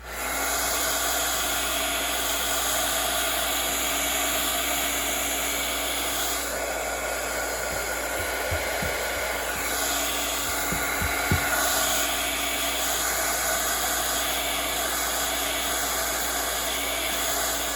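A heat tool whirs in a steady, loud drone while drying ink on stamped paper for an ink smooshing card technique, running continuously throughout with a few faint low taps partway through.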